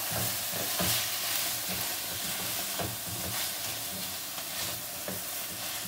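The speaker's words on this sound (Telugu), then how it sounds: "ఒక 5 మినిట్స్ మనం ఫ్రై చేసుకుందాం" Red, yellow and green vegetables fry in a pan for a couscous salad, giving a continuous close sizzle with repeated soft scraping strokes of stirring throughout, no speech.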